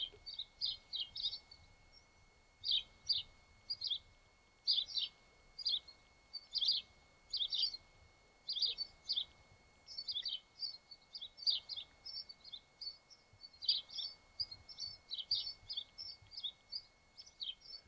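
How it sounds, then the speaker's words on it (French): A small bird sings repeated short bursts of high chirping phrases outdoors to the left, steady and fairly close, with quiet background and no talking, recorded on an Audio-Technica AT8024 microphone. "on entend un oiseau qui chante sur ma gauche"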